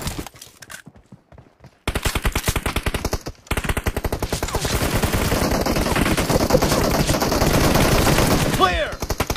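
Rapid automatic rifle fire from a PUBG Mobile team deathmatch, loud and dense bursts that run almost continuously after a short pause, with brief voices and game effects mixed in.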